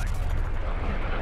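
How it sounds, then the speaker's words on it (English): An incoming artillery strike in Call of Duty Cold War produces a loud, continuous deep rumble of explosions that fills the whole moment. "Incoming artillery."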